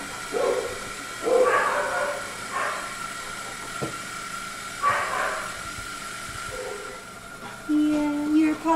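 A dog in a stray rescue in Detroit gives a few short barks and yips at close range, in separate bursts amid background noise, with no talk over them.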